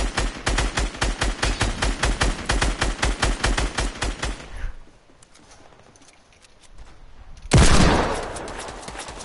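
Rapid automatic gunfire in a first-person shooter video game, a loud sustained burst of evenly spaced shots for several seconds, then a quieter lull before a sudden loud blast of noise.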